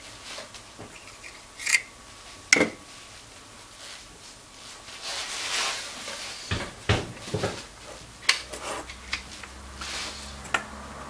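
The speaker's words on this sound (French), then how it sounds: "Je coupe." Scissors snip through fine sailing line for a Laser dinghy's Cunningham, a few sharp close clicks scattered among soft handling rustles, quiet and without talk.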